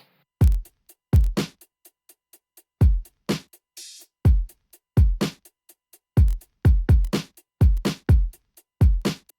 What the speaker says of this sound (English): I added my drums, which sounds like this.